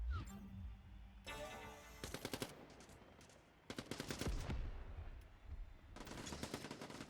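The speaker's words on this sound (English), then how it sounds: "Dacoops, look at this side strafing, this flicking, this pistol shots." Gunfire in the arena shooter Quake Champions during a competitive match, with clusters of sharp, rapid shots in several bursts over a busy game soundscape, while a commentator talks at the start.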